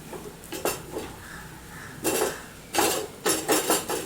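Food being stirred in a pan on a gas stove, heard as several separate metallic scrapes and clanks of a utensil against the pan, close and fairly loud, with quiet gaps between.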